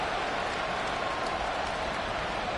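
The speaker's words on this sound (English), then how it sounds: "This crowd turning up the decibel level." Steady, broad stadium crowd roar in the Madden football video game, a dense continuous wash of noise at moderate level with no distinct claps or voices standing out.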